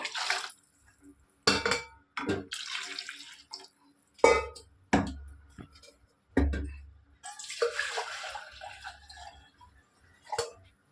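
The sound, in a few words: water being poured into a pot of rice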